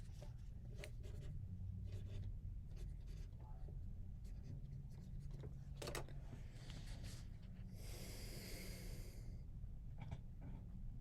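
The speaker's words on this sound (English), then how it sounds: "Probably write that down here." A pen scratches across paper in short strokes and pauses, close and quiet, with soft breathing and faint rustling around it.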